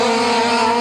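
80cc youth speedway motorcycles at a 1983 Swedish championship race scream past in a sustained high-pitched engine whine, a brief loud burst of racing engines.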